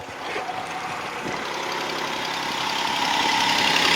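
A Jeep Wrangler engine idles steadily just after starting, a continuous mid-pitched running hum that grows slightly louder toward the end, with no talk over it.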